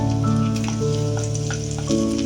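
Chopped garlic, ginger and green chillies sizzle and fry in a pan for chicken soup, a steady close-up crackle with light stirring scrapes throughout.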